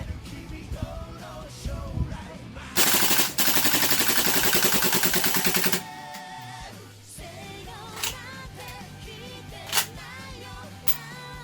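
A King Arms M2 Carbine gas blowback airsoft rifle fires one loud, rapid full-auto burst lasting about three seconds, with a few lighter clicks and handling noises before and after.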